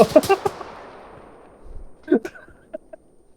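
Bursts of gunfire ring out in Arma 3, a rapid cluster of sharp shots up front trailing into a long echoing decay, then a second scattering of fainter cracks, with players talking around them.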